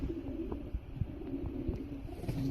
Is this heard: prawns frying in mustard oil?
no